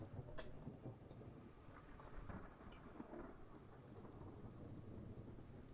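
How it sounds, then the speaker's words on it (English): Soft steady rain with rolling thunder plays as a quiet background ambience track, a low continuous rumble with scattered drop ticks and no talking over it. "Is that supposed to be like rain music and stuff?"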